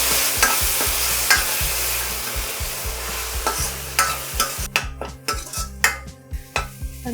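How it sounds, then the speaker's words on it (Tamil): Ground shallots and green chili fry in a pan for a chicken curry, with a busy sizzle under repeated rhythmic spoon strokes and scrapes against the metal, growing louder and more clattering toward the end. "இதை ஒரு முறை நல்லா கலந்து விட்டுருவோம்."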